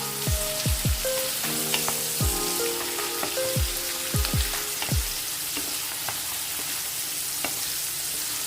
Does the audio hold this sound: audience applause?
no